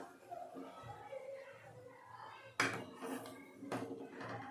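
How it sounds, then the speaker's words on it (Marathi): A glass is set into a pot of boiling water while making aluvadi, sharp clinks and clatters of glass against metal cookware standing out over low kitchen background and bubbling, two distinct knocks close by. "आता त्यात एक ग्लास ठेवून घेऊया"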